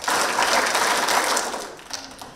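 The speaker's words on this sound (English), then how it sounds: "And clap 4 times for your parents." Fifth-grade students applaud together at a school completion ceremony, a dense burst of many hands clapping at once that starts abruptly, holds steady, then thins out toward the end.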